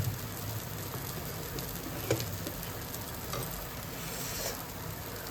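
Homemade dosa frying in a pan makes a continuous, close hiss of sizzling batter with a few slightly louder pops, with nobody talking.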